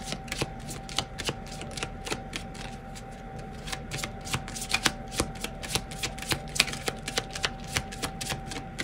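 Tarot cards are shuffled close up in a rapid, steady run of crisp riffling snaps and flutters that continue throughout, over a quiet background hum.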